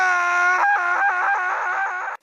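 A man lets out a long, loud, tonal scream that wavers and breaks into a shaky, pulsing cry before cutting off abruptly, heard alone.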